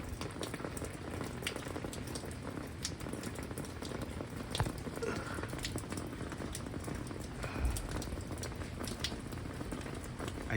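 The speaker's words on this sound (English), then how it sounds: "It's rainy and it's getting windy out." Heavy outdoor rain falls with gusting wind, a dense continuous wash of patter and noise with occasional sharper drops, steady and fairly close.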